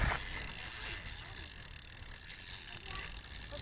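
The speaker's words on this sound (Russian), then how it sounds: "Кассета звук." The rear cassette ratchet on a Haro Shredder BMX bike with a one-piece rear hub gives a rapid, continuous ticking close to the microphone, lasting the whole stretch.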